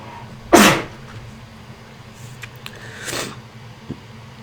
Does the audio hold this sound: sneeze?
yes